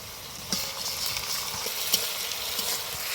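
Onion and garlic paste sizzling in hot oil, a steady broadband hiss of frying with a few faint clicks of a spoon stirring against the pan, no voices.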